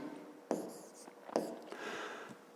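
A pen writes on paper during a fifth-grade geometry exercise, giving short close scratchy strokes with a couple of sharper taps, quiet and intermittent, with no talk over it.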